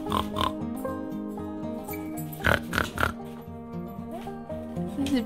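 A young child imitates a pig, making several short grunting oinks in quick bursts near the middle, close up with soft background noise between them.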